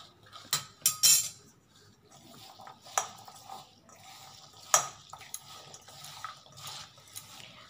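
Bombay duck fish chorchori with mixed vegetables and garlic being mixed in a kadai of hot oil with a little sugar: irregular close spatula scrapes and metallic clinks against the pan, some sharp, others soft.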